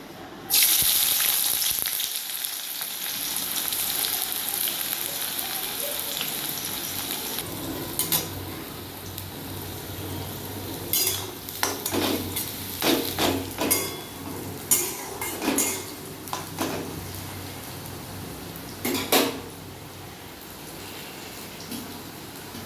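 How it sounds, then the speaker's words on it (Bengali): Onions frying in oil in a pan for beresta: a dense, continuous sizzle throughout, broken later by a run of sharp scraping and clinking stirs against the metal, close and fairly loud with no speech. "এবার আমি প্রথমে আমি পেঁয়াজের বেরেস্তা করে"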